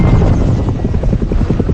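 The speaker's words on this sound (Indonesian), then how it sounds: "Leroy setuju dan helikopter pun segera lepas landas." Helicopter lifting off in a film scene, a loud, steady rotor roar with rhythmic blade thumps pulsing throughout, close and continuous with no voices.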